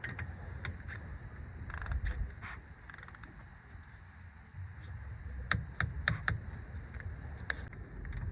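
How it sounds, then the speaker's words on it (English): A wrench torques bolts on the rear disc brakes of a 2004 Mini, giving sharp intermittent metallic ratchet clicks and clanks, close and moderately loud, scattered in uneven bursts with no talk. "Let's torque everything down the spec now."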